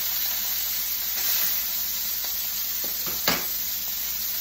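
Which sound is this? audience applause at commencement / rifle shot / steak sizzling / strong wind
steak sizzling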